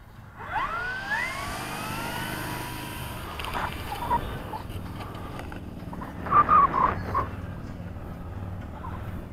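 A model airplane's electric motor whines in flight, a thin rising and falling tone, moderately distant, under wind and rustle, with a louder surge near the end.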